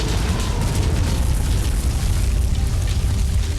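Bombing explosions in the strategy game Civilization: a dense, continuous low rumble of blasts and bursts that holds steady and loud through the whole stretch, with no speech over it.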